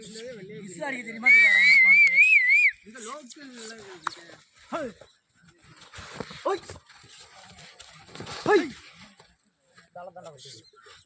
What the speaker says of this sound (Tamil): விசில் அடிங்கடா.